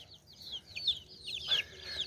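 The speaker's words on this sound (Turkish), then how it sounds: "Üçüncü partide de 6 tane civciv var." Small birds peep and chirp in quick high calls, with soft clucking from chickens nearby; a brief burst of louder cheeping midway.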